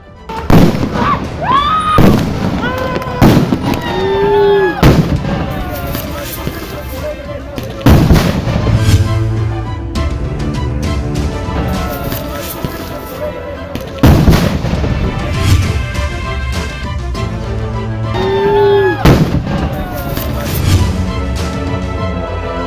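Police firing tear gas shells and guns at the Shambhu border during a standoff with farmers: repeated loud booms and sharp bangs in irregular bursts over some twenty seconds, some close, some echoing, under a constant murmur of a crowd.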